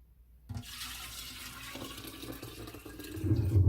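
Pickling liquid starts pouring into a jar of eggs after a brief silence, a continuous splashing trickle that fills the jar, its pitch shifting slightly as it goes.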